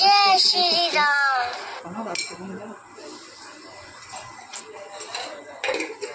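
Dishes and pots clink and knock as they are gathered for washing in a home kitchen; scattered light clatters follow a voice talking at the start.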